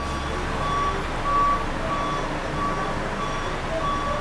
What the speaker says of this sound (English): This always happens when I start filming. A lot of noise.